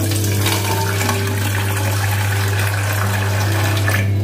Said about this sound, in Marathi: यामध्ये मी पाणी टाकते.